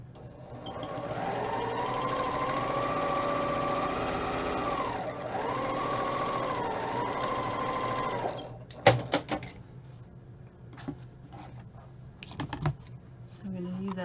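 Sewing machine stitching quilting fabric, a steady fast whir running for about eight seconds with a brief dip, then stopping and giving way to scattered clicks and handling sounds of fabric and ruler.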